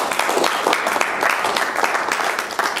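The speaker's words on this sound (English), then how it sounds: "let's have a little round of applause for the contestants and the questions that are doing that one" An audience at a quiz claps for the contestants, a short, steady burst of close applause with no talking over it.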